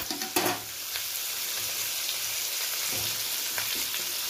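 Cubed potatoes drop into hot oil in a pan for a spinach potato curry and sizzle steadily and loudly close by, with a few stirring clinks near the start.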